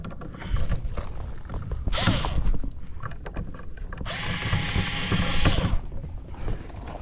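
Power drill driving 6-32 screws into an electrical box, whirring motor bursts over a steady noisy background, with a couple of louder sustained runs, close by.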